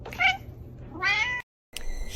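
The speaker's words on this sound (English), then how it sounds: "Meow. Meow." A cat meows twice, close and clear, in drawn-out calls about a second apart, followed by a brief silence and then a quieter noisy stretch with faint tonal sounds.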